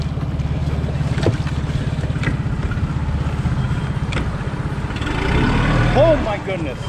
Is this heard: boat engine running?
yes